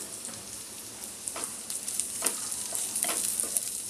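Capsicum and mixed vegetables for egg hakka noodles sauté briefly in a hot pan, giving a steady close sizzle with a few scraping stirs throughout, and no one speaking.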